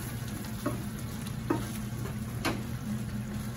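Shrimp paste (bagoong alamang) sautés in a pan, a quiet, even frying hiss with a few soft stirring clicks, close and steady with no talking.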